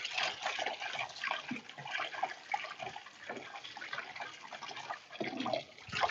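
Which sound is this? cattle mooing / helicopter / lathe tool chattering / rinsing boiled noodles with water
rinsing boiled noodles with water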